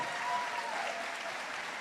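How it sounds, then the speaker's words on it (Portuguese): Applause from a conference audience at an innovation event fills the whole moment, a steady dense wash of clapping at moderate level with no talk over it. "Uma salva de palmas por gentileza."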